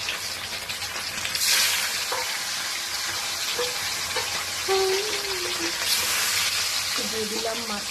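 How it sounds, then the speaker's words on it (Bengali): Fish fries in a hot wok with a loud, continuous sizzle that swells briefly at times, accompanied by occasional stirring clinks and faint voices in the background. "দিয়ে দিলাম মাছটা কড়াইয়ের মধ্যে। এবার আস্তে আস্তে ভেজে নিই"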